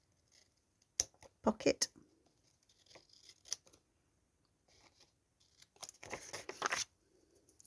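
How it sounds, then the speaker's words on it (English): Glue-coated scissors snipping paper while decorating a frog-themed craft journal, a few sharp close snips in quick clusters with quiet pauses between, and a brief spoken word in the gaps. "I'm going to use my scissors that have got glue"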